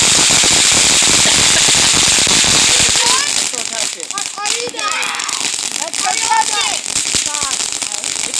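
A dense rapid crackle of firecrackers and fireworks at New Year, loud and close, continuous for several seconds before thinning into scattered pops and fizzing, with people shouting over it.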